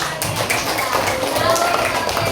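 Elementary school children in a classroom clap their hands for a classmate, a short burst of scattered, light claps mixed with voices talking over them.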